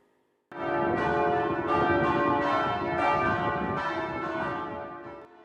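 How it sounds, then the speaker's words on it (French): The bells of Saint-Louis Cathedral in Fort-de-France peal loudly and continuously on Ascension Day, several strokes overlapping in a rich, resonant ringing with no voices. "les cloches de la cathédrale Saint-Louis de Fort-de-France retentissent dans toute la capitale"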